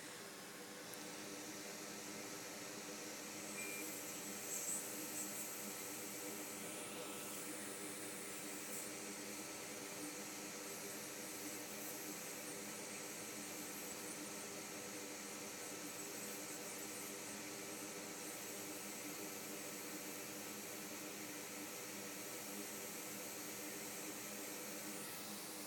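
A fume extractor runs beside the soldering of a MacBook Air logic board, a steady, faint fan whoosh of even broadband air noise that drones on unchanged for about twenty-five seconds with no voices.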